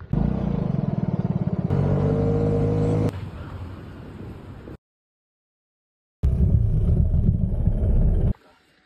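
A Vespa scooter engine drones steadily while riding on Czech roads toward South Bohemia after rain. The loud, rough hum shifts tone partway through, drops out into total silence, then returns just as strong before cutting off.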